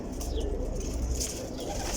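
Pigeon cooing, with soft low coos and faint chirps over steady background noise throughout.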